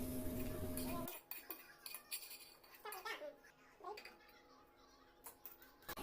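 Metal utensils clink and scrape against a pan as half-cooked egg for egg fried rice is shifted into another vessel, a few irregular close taps and clatters after a brief burst of louder cooking noise.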